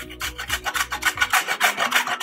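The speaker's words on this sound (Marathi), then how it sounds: "जाडच याच्याने किसायचा, म्हणजे किस जाडच किस खायला छान लागतो" Sweet potato is rubbed against a grater into thick shreds, a steady run of about a dozen rhythmic rasping strokes, close and loud, with no talking.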